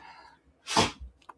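A single sharp sneeze close by, preceded by a brief intake of breath and followed by a faint sniff.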